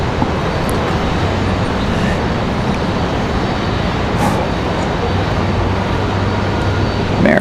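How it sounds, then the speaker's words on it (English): An American Airlines Airbus A319 jet at Raleigh-Durham International Airport gives a steady, loud, broadband roar that holds constant throughout, with no talking over it. "American in that A319, I believe they're headed back to Miami"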